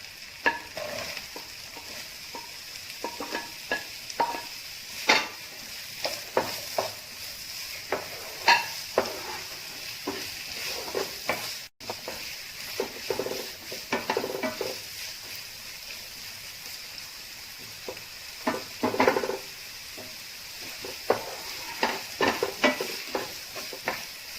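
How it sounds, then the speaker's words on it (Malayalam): Onions sizzling and being stirred in a hot pan while Chinese-style garlic chicken is cooked, with steady frying hiss broken by frequent scraping stirs throughout, close and moderately loud, no talking. "ഇനി ഇതിലേക്ക് നമുക്ക് സവാള ചേർത്ത് കൊടുക്കാം."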